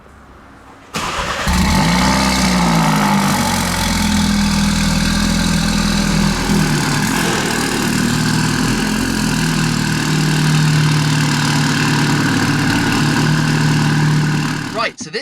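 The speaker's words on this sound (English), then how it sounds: "So let's fire it up and take it outside and go for a little drive in the Manhart F300 JCW." A Manhart F300 JCW Mini, an F56 John Cooper Works car, starts after a second of near silence, then holds a loud, steady idle close by for the rest of the clip, with a low, even drone throughout.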